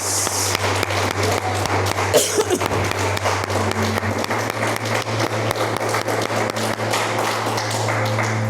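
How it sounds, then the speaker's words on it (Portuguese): A church congregation clapping in praise during a worship service, a dense continuous patter of many hands over a steady low electrical hum, fairly close and even in loudness throughout. "vamos aplaudir o Senhor, aleluia"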